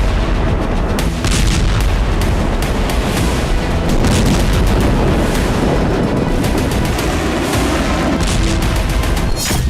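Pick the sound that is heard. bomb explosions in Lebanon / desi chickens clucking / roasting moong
bomb explosions in Lebanon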